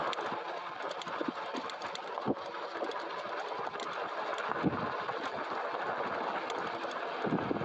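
A Haoqi Cheetah e-bike runs on its twist throttle with no pedaling along a trail, giving a steady, continuous motor whine mixed with rushing wind noise and no talking.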